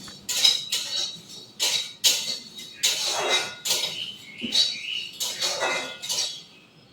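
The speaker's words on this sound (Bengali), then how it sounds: "শুকনো খোলায় আমি সবের মশলাটা ভেজে নেব।" Whole spices dry roasting in a hot dry pan, with repeated near scraping and rattling strokes as they are stirred, steady and moderately loud, no talk.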